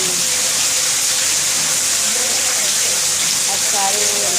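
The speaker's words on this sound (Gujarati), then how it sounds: "આ સારો એવો વરસાદ વડનગરમાં પડ્યો." Heavy rain falls steadily in Vadnagar, a dense, even hiss that never lets up, with faint voices and a few scattered sounds mixed in underneath.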